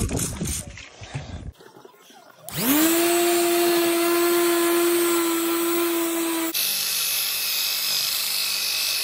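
Power tool polishing a live edge resin table, its motor spinning up around the third second into a loud, steady whine with a strong tonal hum that holds to the end, with no talk over it.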